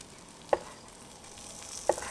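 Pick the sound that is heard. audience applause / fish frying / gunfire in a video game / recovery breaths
fish frying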